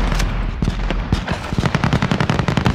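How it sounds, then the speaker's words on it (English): Sustained RPD machine gun fire in Call of Duty Warzone, a fast run of sharp rattling bursts that grows denser and more rhythmic toward the end, loud and close with no talking over it. "He almost ran out of ammo with the RPD trying to kill me."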